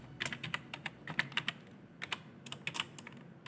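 Python code is typed on a computer keyboard in quick, close clusters of key clicks with brief pauses between bursts. No talk is heard.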